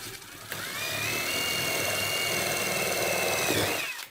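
A power drill bores a hole into a homemade Sterno stove, a steady high whine that holds for about three seconds after a brief start and then spins down, close and alone.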